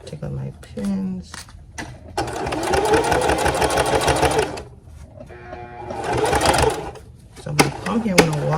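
A domestic sewing machine stitches a lap zipper into fabric in bursts: loud steady runs of rapid needle clatter, separated by pauses, brief handling sounds and a voice talking.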